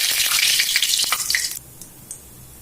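Cumin seeds sizzle loudly in about 100 grams of hot oil in a wok, a bright crackling hiss that drops away abruptly partway through, leaving a faint quiet tail.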